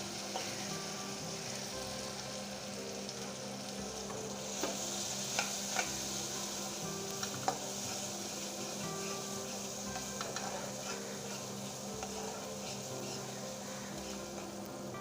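Spices frying in a pan for chicken kurma give a steady, close sizzle with occasional crackles and scraping stirs, continuing evenly throughout.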